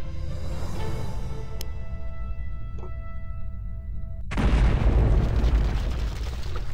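A sudden, heavy explosion bursts in after a calm stretch with a faint tone in the background, then gives way to a loud, sustained roaring rumble that carries on to the end.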